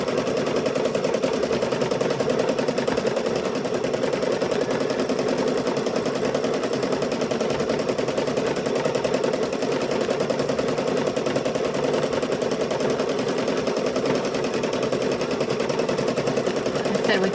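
A sewing machine runs steadily while stitching a baby quilt, its fast continuous motor whir and needle chatter holding an even level without pause from start to finish.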